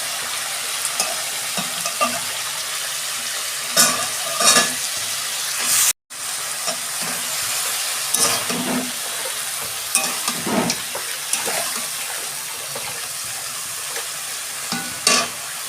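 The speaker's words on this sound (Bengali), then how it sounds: "কষানো হয়ে গেছে, পালং শাকটা দিয়ে দিচ্ছি।" Spinach added to a frying pan after sautéing and stirred, giving a steady sizzle with scraping stir strokes that come and go over about sixteen seconds.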